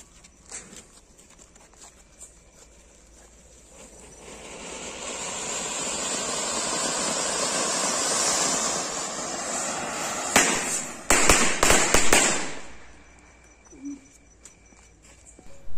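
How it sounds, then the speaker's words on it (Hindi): An anar plus bijli bomb firecracker goes off: a rising, loud hissing fountain spray builds over several seconds, then a rapid burst of sharp crackling bangs, then it fades, with no talking. "सो नेक्स्ट आता है अनार प्लस बिजली बम, तो चलिए इसको भी चलाते हैं, देखते हैं कैसे चलता है।"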